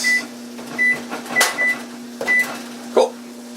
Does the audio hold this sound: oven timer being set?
yes